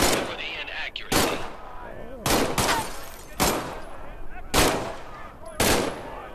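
Pistol gunfire in the VR shooter Medal of Honor VR: five sharp, loud single shots, evenly spaced about a second apart, each with a short ringing tail.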